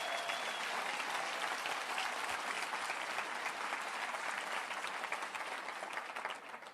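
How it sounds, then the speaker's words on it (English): Audience applause at a motivational seminar, a dense, steady wash of clapping filling the room throughout and easing slightly at the end. "Give a big round of applause, please."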